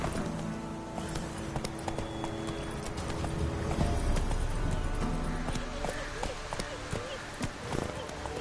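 Hooves of the horse Roach clip-clop steadily at a gallop in a PS4 video game, a continuous rhythmic pounding mixed with game music and effects, with a voice speaking over it.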